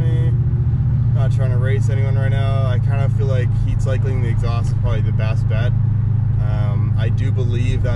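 Infiniti Q45 fitted with Nissan Titan headers, driving, its exhaust a steady, loud low drone held throughout while someone talks over it.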